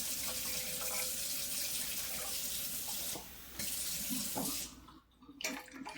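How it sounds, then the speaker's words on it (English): Water poured from a smaller container into a larger one sitting on a kitchen scale while measuring for sourdough; a steady broadband rushing stream that briefly dips and thins toward the end, with no talking. "start pouring it in and watching the numbers go up"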